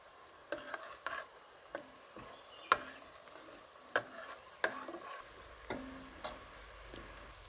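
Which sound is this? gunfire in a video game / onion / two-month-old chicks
onion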